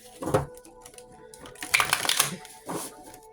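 Cards riffled and shuffled in a few quick bursts, crisp papery flutters close up with short pauses between.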